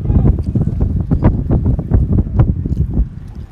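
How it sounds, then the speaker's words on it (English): Strong gusty wind buffets the microphone at a college baseball field on a bright, blustery day, with uneven rumbling bursts and no clear speech. "Such a beautiful day, but extremely windy with the system passing through."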